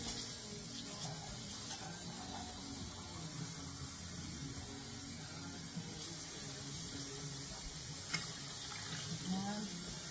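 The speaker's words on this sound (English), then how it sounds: "I'm going to add more water. As a matter of fact, let's use this can." Water is poured from a 14.5-ounce can into a pot of hamburger vegetable soup, giving a steady, moderately faint splashing flow that runs throughout, with a brief clink near the end.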